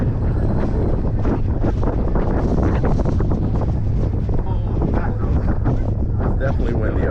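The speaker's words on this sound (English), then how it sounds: "It's definitely windy up here." Strong wind buffets the microphone on the top deck of a car ferry at sea, a loud continuous roar with gusty pulses throughout, while people talk faintly beneath it.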